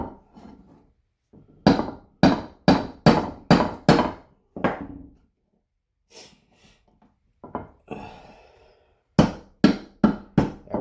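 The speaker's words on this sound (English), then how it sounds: "I just drove the pin back in, nothing fancy." A hammer taps a pin back into a Harrington & Richards model 348 Gamester revolver in quick sharp strikes, delivered in several separate runs of blows with pauses between them. Close and fairly loud, with no talk.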